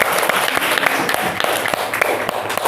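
Classroom applause for a student group, a dense steady patter of many hands clapping close by, filling the whole moment.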